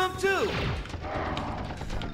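Rapid assault rifle fire from the PS1 game Apocalypse, a loud continuous burst of shots following a brief descending synthetic whine at the start.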